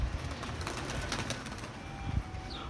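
Pigeons being fed make soft cooing and brief wing flutters nearby, over a constant outdoor hiss with a few scattered clicks.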